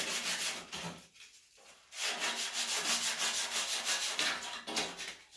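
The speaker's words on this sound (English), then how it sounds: "It's going to take a lot of sanding." Hand sanding of a 1978 Ford F100 dashboard gives a close, raspy back-and-forth scrubbing in rhythmic strokes, with a brief pause partway through before the rubbing resumes.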